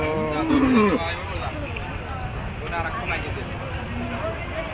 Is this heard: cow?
yes